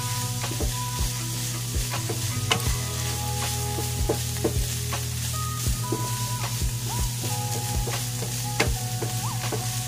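Garlic and onion sauté in oil for pork with vegetables, a steady close sizzle with repeated scraping stirs of a utensil against the pan throughout, with no talking.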